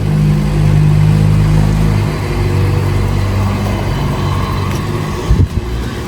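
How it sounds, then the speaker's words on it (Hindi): A car creeping slowly up steep Hyde Street in San Francisco, its engine a steady mid-pitched drone and road rumble close by, with a brief thump near the end. "ये इतना स्टीप है, गाड़ी एकदम स्लो में आ रही है"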